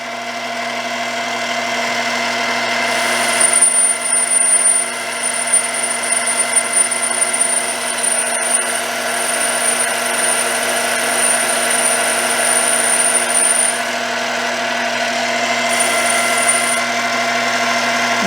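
An Emco Maximat 7 lathe with a Multifix tool post takes a five-thousandths cut, giving a steady motor hum with a high whine and scattered light ticks throughout, close and with no talking.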